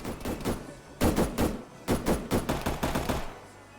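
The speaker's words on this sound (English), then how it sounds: "That MG gunner just dropped quite a few dudes" Machine gun fire in the military video game Arma 3 cracks out in rapid, rhythmic bursts of repeated shots, fairly close and steady, with short pauses between volleys.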